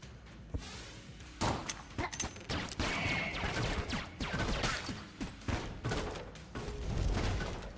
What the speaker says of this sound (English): Finish him off with the damn starting pistol.